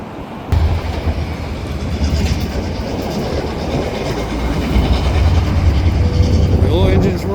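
A small switching locomotive labors loudly near a rail yard by a bridge, its engine rumbling steadily as rail cars clatter along, growing slightly heavier toward the end.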